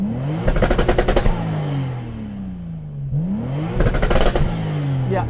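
A stationary Toyota Supra Mk4 TRD engine revs hard twice, each burst climbing with rapid crackling pulses before the pitch falls away, the second rise following after a brief dip, loud and close.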